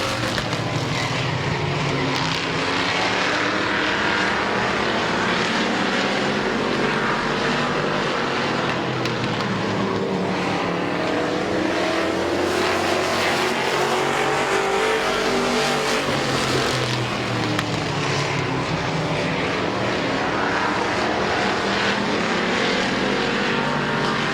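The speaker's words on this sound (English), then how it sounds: "Grove and Collins battling for that second spot" Race cars circle Midvale Speedway with a loud, continuous engine roar that swells and fades as they pass by, dense and unbroken from start to finish with no voices.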